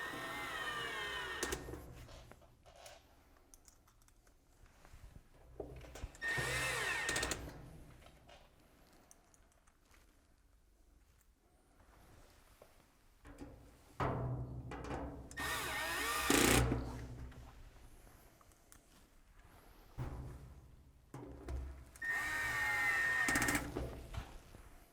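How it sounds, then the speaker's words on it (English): A power drill drives screws into a metal locker cabinet during assembly, whirring in several spaced bursts of a few seconds each, separated by quieter handling noises and clatter, fairly close and moderately loud. "We're going to take the screws and mount them in."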